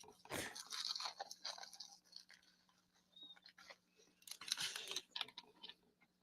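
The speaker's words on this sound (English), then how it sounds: "This is him chewing, by the way." A person eats a Texas toast burger, with wet crunching and chewing in close bursts, loudest near the start and again in the second half, under faint background hum.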